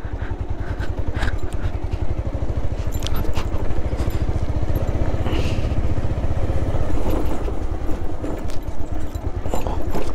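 A motorcycle with badly worn rear shock absorbers rides a bumpy road, its engine droning loudly and steadily throughout while faint rattles and clatters from the rough surface break through.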